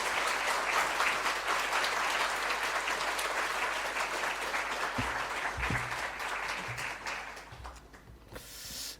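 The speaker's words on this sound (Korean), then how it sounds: "우리 뜨거운 박수로 목사님 환영하겠습니다." Warm applause from a church congregation at a Sunday service welcoming a pastor, a steady, dense clapping that gradually thins and fades out toward the end, with a brief low murmur underneath.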